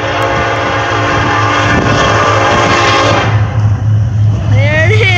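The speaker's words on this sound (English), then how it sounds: "here comes another train. It's Norfolk Southern." A Norfolk Southern freight train passes close by with a loud, sustained chorded horn over a deep rumble of wheels and engine; the horn cuts off partway through, leaving rolling rail noise.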